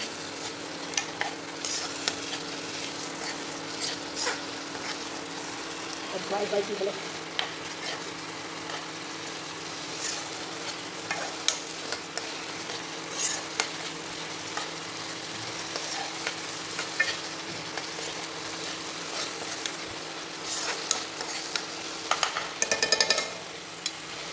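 Spices with turmeric and salt being stir-fried in a pan for spinach curry: a continuous low sizzle with frequent spatula scrapes and stirring strokes, plus a clatter near the end.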